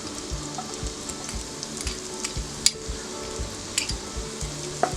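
Garlic, ginger and onion sauté in hot oil over a full flame, giving a steady crackling sizzle broken by quick spatula scrapes and occasional sharp pops.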